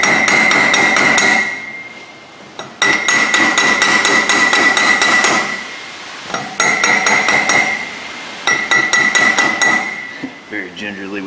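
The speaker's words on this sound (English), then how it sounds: "Very gingerly with an 8-pound hammer." An 8-pound hammer tapping a ball joint on a Ford F-250, a close, loud series of sharp ringing metallic strikes in rapid bursts with short pauses between them.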